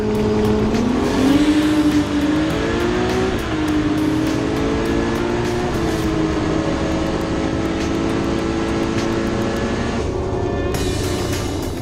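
A car engine roars continuously at high load on a hard pass, its pitch rising and shifting through gear changes as it drives hard.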